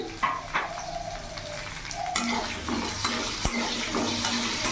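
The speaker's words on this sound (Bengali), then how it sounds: "আলুটাকে লাল লাল করে ভেজে নিয়েছি" Potatoes frying in oil with salt and turmeric, giving a continuous close sizzle with occasional stirring scrapes and one sharp knock against the pan.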